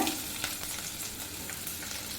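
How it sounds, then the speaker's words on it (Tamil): Thinly sliced onion sizzling and frying in oil with popped mustard seeds and chana dal for a dosa potato masala, a steady close crackle with light stirring throughout. "வெங்காயம் நல்லா வதங்கணும் வதக்கிக்கலாம்"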